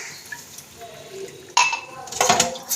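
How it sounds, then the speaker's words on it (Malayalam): Dishes are washed in a home kitchen sink: quiet handling at first, then a sudden rush of running water with clinking pots and utensils in the second half, close and fairly loud. "പാത്രം മാത്രം ഇന്നത്തേക്ക് കഴുകണം"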